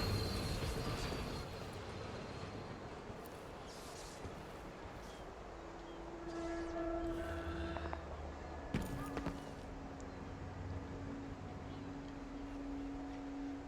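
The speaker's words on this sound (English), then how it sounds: "Oh, that's the train." A train in Dishonored 2 rumbles past with a broad low roar, tonal whines and a clanking jolt near the end, moderately loud, with some speech mixed in.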